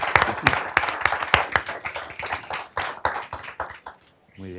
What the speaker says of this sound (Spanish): quería pediros un aplauso para Juan Luis